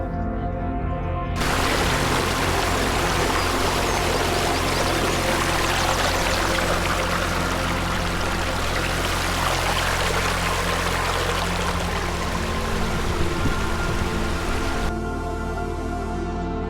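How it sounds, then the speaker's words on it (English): A mountain stream beside an Austrian alpine hut flows steadily, its loud, close, unbroken rush and splash of water filling the scene with no voices. "a lovely stream meandered gently, filling the air with the tranquil, peaceful sound of flowing water"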